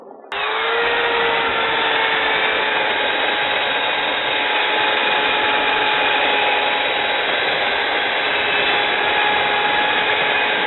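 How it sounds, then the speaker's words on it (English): A power tool's chuck runs steadily for about ten seconds after a sharp start, a loud continuous mechanical whir with sustained tonal hum, close by and alone, no voices. "I'm going to tighten this chuck up just so it doesn't come off."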